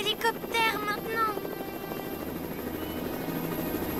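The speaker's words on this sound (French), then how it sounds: "Aïe, un hélicoptère maintenant!" A cartoon helicopter drones with a steady rotor chop and engine whine over a chase scene, loud and continuous, with a brief voice and music at the start.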